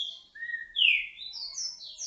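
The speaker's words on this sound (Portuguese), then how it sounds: "Passarinho cantando." A small bird sings a short sequence of clear, rising whistled notes, close and alone against silence.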